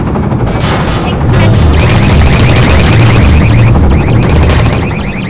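Loud, continuous gunfire in the video game Half-Life 2, dense rapid automatic bursts with booming impacts layered over one another, filling the scene without pause.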